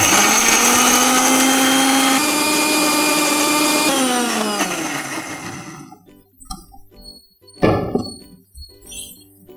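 A Prestige Delite Pro mixer grinds sautéed onions into a paste with a loud, steady, high motor whine that winds down. Afterward come a few clinks and taps of the jar.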